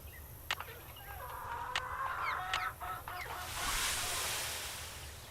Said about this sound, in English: Okay, chickens, come and get it.